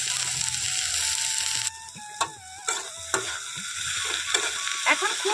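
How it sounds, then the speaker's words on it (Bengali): Fried onion, potatoes and drumstick leaves stirred together in a pan for a Bengali sojne shak, with a steady sizzle broken by several scraping strokes and clinks of the spoon against the pan. "এখন খুব ভালো করে সবকিছু নাড়াচাড়া করে নেব।"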